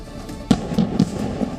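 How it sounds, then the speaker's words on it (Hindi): Gas cylinders on a burning truck burst with sharp, booming pops, one loud blast followed by several smaller cracks in quick succession, heard from a distance. "ट्रक में रखे गैस के सिलेंडर एक एक कर फटने लगे"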